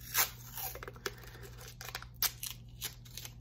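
Short bursts of masking tape being ripped and peeled, several crackly tearing sounds close by with quiet gaps between.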